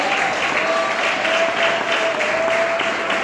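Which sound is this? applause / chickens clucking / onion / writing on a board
applause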